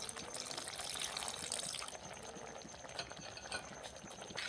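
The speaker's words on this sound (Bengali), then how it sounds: "আর একটু সামান্য পরিমাণে জল অ্যাড করব।" Water is poured into a pan of Bengali-style okra curry (bhindi) as it cooks, giving a steady, close, broadband splashing and bubbling hiss that runs unbroken throughout without speech.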